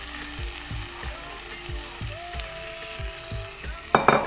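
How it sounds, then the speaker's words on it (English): Pilchard goes into a hot pot of frying food, bringing a soft sizzle under repeated low thumps and clinks, then a brief sharp burst of frying crackle near the end. "So I'm going to transfer the pilchard into my pot."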